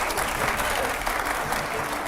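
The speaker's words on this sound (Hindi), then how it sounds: "तालियां हो जरा" Brief burst of dense crowd applause from a live studio audience, steady and fairly loud throughout, with a faint murmur of voices underneath.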